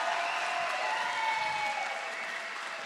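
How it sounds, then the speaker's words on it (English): An audience at a startup pitch competition claps for the contestants, a dense steady wash of applause that stays even and then tapers slightly toward the end. "Can we get a round of applause for all of the contestants tonight?"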